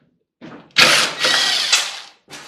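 A power tool whirs in short bursts while backing security screws out of a microwave's casing, close and fairly loud, with a brief pause and restart.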